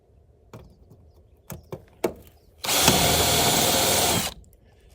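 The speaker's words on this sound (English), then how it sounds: "finding the center of the rivet here, holding this, drilling, and the rivet pops out" A power drill whirs in one steady two-second burst while drilling out rivets on an old Airstream trailer, after several sharp clicks and taps from the tool work, with no talking.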